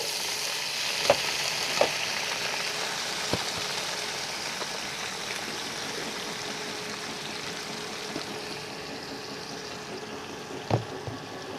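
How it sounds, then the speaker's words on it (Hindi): Chopped onions sizzle in hot oil in a pan while cooking chicken Shimla, a soft, steady frying hiss with a few faint clinks of a spoon stirring, heard alone without talk. "प्याज को अच्छी तरह फ्राई करेंगे"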